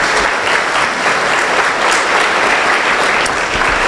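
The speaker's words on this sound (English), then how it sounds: "Let's give them a round of applause." Loud, close applause from the crowd at an awards event as board members are recognised, a dense wash of clapping that holds steady for the full few seconds.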